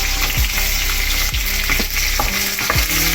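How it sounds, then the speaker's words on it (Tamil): Small onions sizzle and fry steadily in a pan for a simple tiffin sambar, with a few spoon or spatula stirring scrapes breaking through the continuous close, loud crackle. "சின்ன வெங்காயம் நல்லா வதங்கட்டும்"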